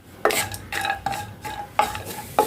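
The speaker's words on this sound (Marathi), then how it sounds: "त्यात सुरुवातीला एक चमचा साजूक तूप घालते आणि हे जे ड्रायफ्रुट्स आहे ते ड्रायफ्रुट्स आपल्याला थोडेसे तळून घ्यायचे आहे" Dry fruits fry in a spoonful of ghee in a kadai for moong dal halwa. Several close scraping stirs come at an uneven rhythm, each with a brief clatter of the spatula against the pan over a faint sizzle.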